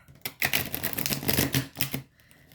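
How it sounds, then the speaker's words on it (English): Quick papery riffling and clicking of tarot cards being shuffled, close up, in a burst of rapid flutters lasting about two seconds. "I'm just gonna shuffle a little bit because I had already shuffled, but just a little bit more."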